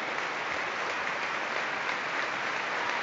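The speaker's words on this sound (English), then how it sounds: "There's a minute's applause taking place at the moment for a Motherwell fan who passed away just recently." Football stadium crowd at a Motherwell vs Dundee United cup quarter-final holding a minute's applause, a steady distant wash of clapping with no voices on top.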